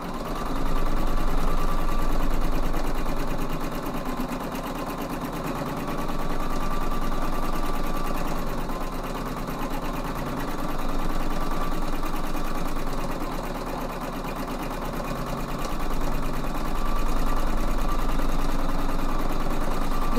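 Embroidery machine stitches an outline through two layers of fabric, a steady close mechanical hum with a fast, even needle rhythm that swells and eases slightly.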